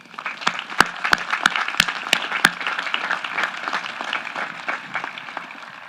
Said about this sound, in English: I would love to recognize that support with another round of applause